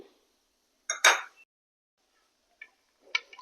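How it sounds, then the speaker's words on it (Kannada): Shelled cowpea beans dropped into a bowl, heard as a couple of short clinking rattles followed by quiet gaps and a final small clatter. "ಇವಾಗ ಒಂದು ಬೌಲಷ್ಟು ಅಲಸಂದಿ ಕಾಳನ್ನ ಹಾಕ್ಕೊತಿದ್ದೀನಿ."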